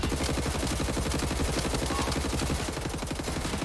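Rapid, continuous shotgun and gunfire from Wolfenstein: The New Order, loud and sustained as a steady stream of shots without pause, no voices.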